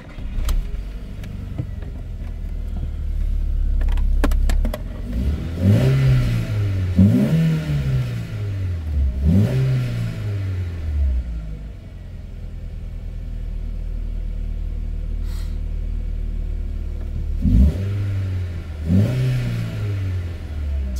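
A car engine, fitted with a drilled airbox, runs steadily after starting, with several rising revs that swell and fall back to a low idle rumble, loud and close.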